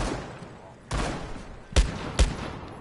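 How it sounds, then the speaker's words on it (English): Desert Eagle pistol in Rainbow Six Siege firing a few heavy, sharp shots, two standing out as loud close cracks about half a second apart over a background of other gunfire. "I love the sound of the deagle"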